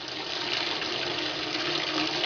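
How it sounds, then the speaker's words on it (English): Hot water gushes steadily into a bucket for dyeing UGG boots, a loud, continuous rushing fill with no talk over it. "Fill it up with hot, extremely hot water"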